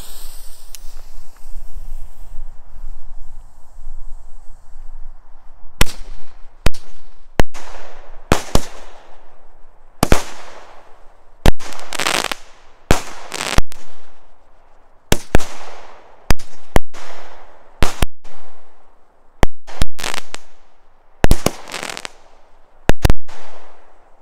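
A TNT Purple People Eater 25-shot firework cake fires a rapid series of loud, sharp bursts, each followed by a crackling, hissing tail, after a quiet fizzing fuse at the start.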